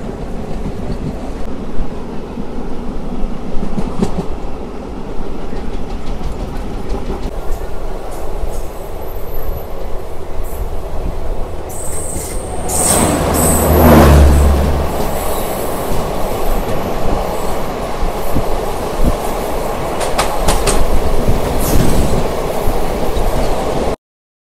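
The Simhadri Express runs loudly on the rails between Visakhapatnam and Guntur, with a continuous rumble, rhythmic wheel clatter and a brief high wheel squeal midway, heard from inside the moving train.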